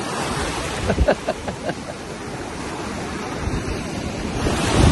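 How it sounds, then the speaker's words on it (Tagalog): Heavy ocean surf rolling and crashing at a swimming beach, with gusty wind buffeting the microphone and a swelling roar toward the end. "Lakas ng alon, no?"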